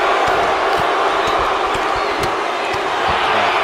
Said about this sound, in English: These fans in Boston just booing the hell out of Sharp